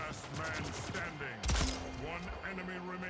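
A shotgun blast in the video game Splitgate booms once mid-clip, loud and sharp, amid rapid game gunfire and clatter.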